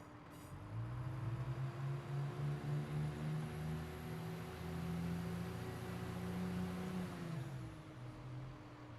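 A Turbostar diesel multiple unit passes at Coventry on the West Coast Main Line. Its steady, droning engine hum with clear tonal harmonics holds for several seconds, moderately distant, before the pitch drops and the sound fades as it moves away.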